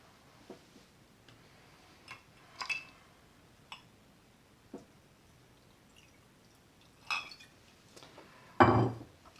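Whisky poured over round ice cubes into a glass, heard as a few sparse clinks and ticks of ice and glass spread out, ending in a louder pouring splash, close and fairly quiet with no talking.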